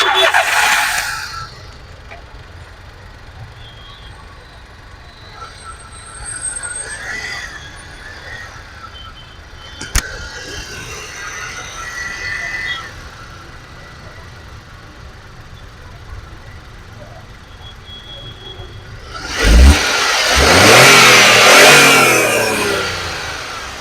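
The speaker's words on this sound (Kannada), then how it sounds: "ಫ್ರೆಂಡ್ಸ್ ಗಾಡಿ ಸ್ಟಾರ್ಟ್ ಮಾಡಿ ಕೂಡ ತೋರಿಸ್ತೀನಿ ನೋಡಿ" A Volkswagen Polo with a 1.2 engine and a new battery idles quietly, with brief scattered noises and faint talk, then revs sharply near the end in a loud rising surge.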